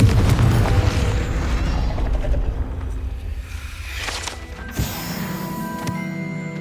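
A Confringo blast spell in Hogwarts Legacy fires with a loud, low booming burst at the start that decays into rumbling game ambience, followed by a second sharper impact about five seconds in.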